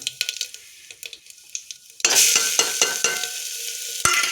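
Cumin, green chili and onion drop into a hot frying pan with a sudden loud sizzle, preceded by light clinks and taps of a utensil, then steady frying with scraping stirs.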